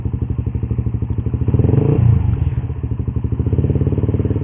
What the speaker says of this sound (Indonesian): Sekarang gue mau coba geber ya, dari RPM bawah dulu.